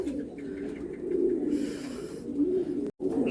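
Several Golden Ice pigeons coo in a steady low murmur close by, with soft overlapping calls continuing throughout and a brief dropout near the end.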